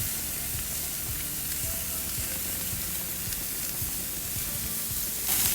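Ribeye steak sizzles loudly in a hot pan, a dense steady frying hiss with small crackles and a brief louder burst at the end as the meat is flipped.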